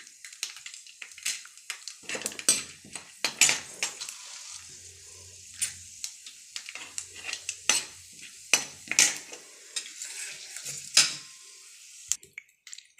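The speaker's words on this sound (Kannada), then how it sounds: "ನೋಡಿ, ಕಡಲೆಬೇಳೆ ಎಲ್ಲ ಫ್ರೈ ಆಗಿದೆ" Mustard seeds and chana dal fry in oil, heard as a soft sizzle broken by irregular sharp scrapes and taps of a spoon stirring against the pan, close by with no talking.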